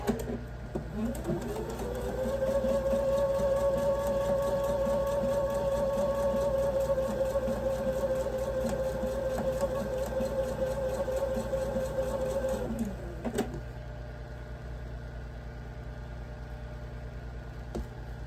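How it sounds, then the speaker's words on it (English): Sewing machine chain piecing quilt block squares corner to corner, a steady whirring hum running continuously for about ten seconds, fairly quiet and close, then stopping with a brief click. "Okay, I'm gonna sew corner to corner. And I'm just gonna chain piece these."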